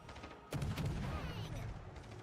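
Naval guns fire in a warship video game, a single heavy boom landing abruptly and rolling into a sustained low rumble that slowly fades.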